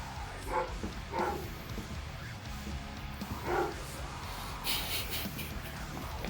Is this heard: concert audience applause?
no